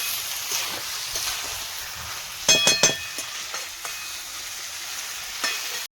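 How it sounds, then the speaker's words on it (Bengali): Potatoes and meat fry in spice masala in a pan, a soft steady sizzle broken by a few sharp metallic scrapes and clanks of a spoon near the middle, close and with no talking. "দিয়ে ভালো করে কষিয়ে নেব। আলুগুলো দিয়ে দেবো।"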